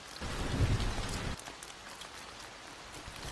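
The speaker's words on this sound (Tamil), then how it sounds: "அப்போது மழை பொழிந்தது" Animated rainfall patters in a dense, fairly loud burst that drops after about a second to a quieter, steady drizzle.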